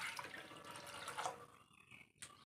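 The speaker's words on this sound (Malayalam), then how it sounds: "കുറച്ച് വെള്ളം ഒഴിച്ച് കൊടുക്കാം കേട്ടോ." Water splashes and trickles into a blackened pan being cleaned, a steady wash for over a second that thins into scattered drips before one last brief splash.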